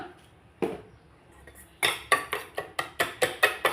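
Eggs seasoned with salt and pepper are beaten hard in a bowl, a steady run of about eight sharp clinks of the utensil against the side after a couple of earlier taps, close and clear with no talking.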